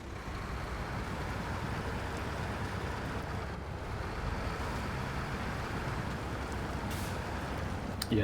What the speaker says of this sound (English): this truck performs so much better when it hasn't got a trailer on the back